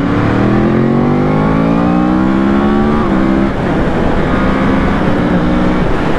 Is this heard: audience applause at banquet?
no